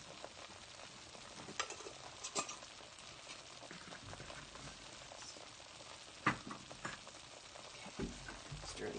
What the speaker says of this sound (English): Okay, and I'll stir those in a bit.